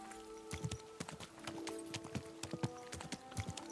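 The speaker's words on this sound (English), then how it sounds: "Sounds like a bloody expensive horse." Horse hooves clip-clop in a steady, fairly close rhythm on a hard surface in the medieval video game Kingdom Come: Deliverance 2, with a low steady game ambience underneath and no talking.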